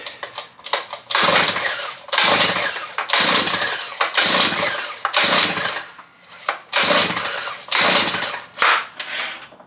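A Wheelman Bushpig motorized skateboard's small engine is pull-started by hand, a series of about eight loud, rough, ratcheting cranking pulls close by, each lasting under a second, with brief pauses between them and no sustained running.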